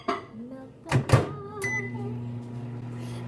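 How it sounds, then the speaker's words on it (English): A microwave oven melting butter for banana bread gives a couple of sharp clunks, then settles into a steady low electrical hum with a faint tonal whine that runs to the end. "Melt the butter in the microwave or over low heat on the stovetop"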